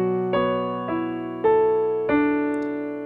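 Piano chords played with both hands, four sustained chords struck at a slow, even pace, each ringing out and decaying before the next, close and alone.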